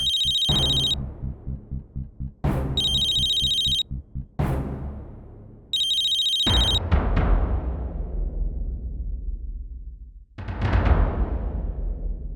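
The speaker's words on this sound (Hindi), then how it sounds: "मेरा फोन बज रहा है।" A mobile phone ringtone rings in repeated bright electronic bursts, each cut by heavy low dramatic musical hits and booming swells, loud and close with no talk.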